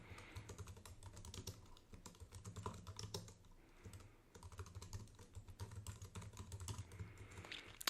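Steady computer-keyboard typing while entering Ruby code, quick uneven clusters of close key clicks with brief pauses, no talking.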